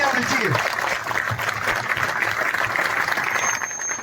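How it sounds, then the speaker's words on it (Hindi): Audience at a union speech in Panchkula breaks into sustained, dense applause, a steady wash of claps from many hands held at even loudness with no lull. "साथियों, उनके लिए जोरदार तालियां होनी चाहिए।"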